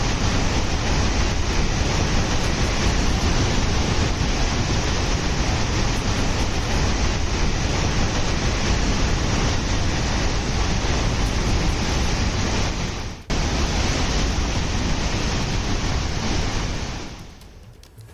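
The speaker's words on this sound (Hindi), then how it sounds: "पानी का शोर आसपास के लोगों को डरा रहा है" Floodwater roaring through ten open dam gates during heavy rain in Gujarat: a loud, dense, unbroken rush that stays constant before fading toward the end.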